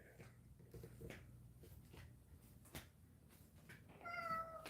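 A cat meows once near the end, a short, fairly faint call rising out of a quiet indoor room with a few soft knocks and rustles before it.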